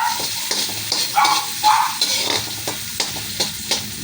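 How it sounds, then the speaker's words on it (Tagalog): Garlic and onion sautéing in a pan for a bottle gourd and sardine dish, a close, bright sizzle with repeated scraping stirs in a loose rhythm, no voices. "Lagyan natin sibuyas para sabay silang maluto."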